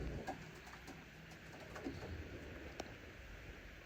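Young racing pigeons in a loft, sick with an infection, give soft, faint cooing calls over a low steady background hum.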